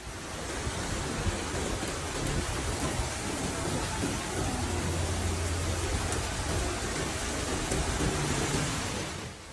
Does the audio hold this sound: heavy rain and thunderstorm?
yes